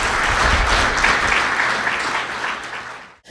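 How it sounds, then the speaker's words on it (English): An audience applauds in honor of Sir Kennedy Simmonds, first Prime Minister and national hero of St. Kitts and Nevis, at a ceremony. The dense, sustained clapping from many hands stays loud throughout, then cuts off abruptly at the end. "Give him a round of applause."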